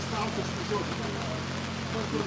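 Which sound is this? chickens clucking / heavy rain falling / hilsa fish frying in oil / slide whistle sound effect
heavy rain falling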